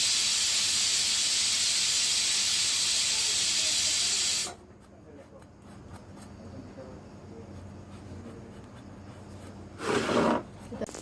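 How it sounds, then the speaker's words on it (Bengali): Pointed gourd (potol) slices fry in a pan with a steady loud hiss that drops abruptly partway, leaving quieter sizzling and a brief burst of spattering near the end. "এই যে দেখো এখানে পটল ভাজা হচ্ছে"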